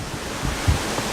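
A river cascades through an Italian lakeside village as a steady broadband rush of flowing water, even and continuous with no voices.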